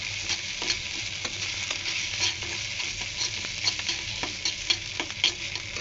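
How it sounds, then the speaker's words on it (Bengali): Ginger garlic paste sizzles steadily as it fries in a pan, a continuous hiss with scattered crackles and occasional stirring clicks, close and moderately loud with no talk. "আদা রসুন একটু ভাজা ভাজা করবো।"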